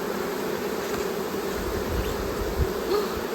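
Honey bees buzz in an open hive during a hive split, a dense, steady, close humming swarm drone continuing throughout with no speech.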